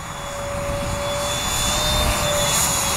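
Homemade radio-controlled airplane with thrust vectoring flying overhead, a steady whining motor drone with a thin high tone that slowly swells louder, no voices.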